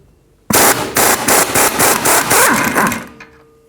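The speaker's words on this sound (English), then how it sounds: "Using a 17mm socket, remove the strut bolt." A rapid burst of loud impact-wrench rattles drives out a strut bolt with a 17mm socket on a Honda Accord's rear suspension, several choppy pulses over about two and a half seconds before the tool stops abruptly.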